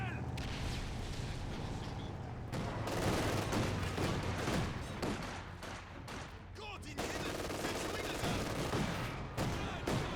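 Dense, continuous LMG machine-gun fire fills a Company of Heroes 2 battle, sustained bursts layered with other weapons and explosions at steady high loudness for the whole stretch, with no pause.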